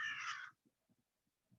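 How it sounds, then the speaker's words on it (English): One raspy caw from a crow rings out loud and close, then several faint, low, scattered calls from other crows follow across a quiet background. "Lots of crows."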